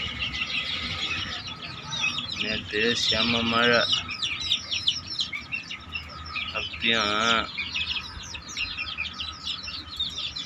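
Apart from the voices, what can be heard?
chicken chicks chirping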